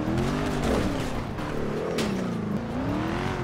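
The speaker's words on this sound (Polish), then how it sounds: "Ja sobie biorę auto" Video game car engine drives and revs continuously, loud and close, with pitch rising and falling as it accelerates and shifts, alone without talk.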